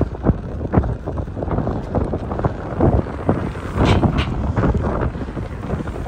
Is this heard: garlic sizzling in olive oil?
no